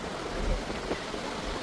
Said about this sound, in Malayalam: കാറ്റടിച്ചിട്ട് നമുക്ക് നടക്കാൻ പറ്റില്ല.